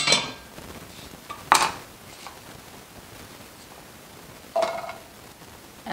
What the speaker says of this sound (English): And I'm going to stick them in my pot.